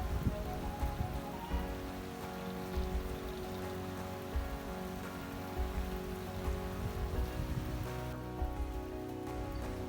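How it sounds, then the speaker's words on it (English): Rain falls on a wet morning in the hills at Mussoorie, a soft, even patter of drops on surfaces that holds steady throughout, fairly quiet and with no voices. "The calm, starry night made way for a wet, rainy morning."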